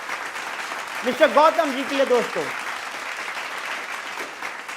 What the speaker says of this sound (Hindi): जोरदार तालियां मिस्टर गौतम जी के लिए